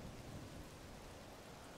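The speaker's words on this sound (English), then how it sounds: "for the thunder to pass again." Rain and rolling thunder from Zelda: Tears of the Kingdom make a faint, dense, steady wash of noise, with low rumble underneath, continuous and even throughout.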